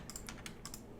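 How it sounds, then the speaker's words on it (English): Several quick, crisp clicks as the Alt key is pressed on a computer keyboard, close and dry against a quiet room, with no talking. "I'm hitting Alt on my keyboard"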